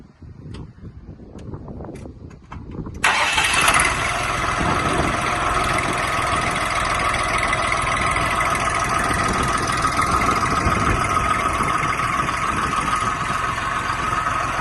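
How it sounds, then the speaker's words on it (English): A direct-injection tractor diesel, started cold with no preheat, cranks briefly and catches, then settles into a loud, steady, rumbling idle that carries on unbroken. "The tractor's a direct injection engine, so you rarely need any preheat on the tractors."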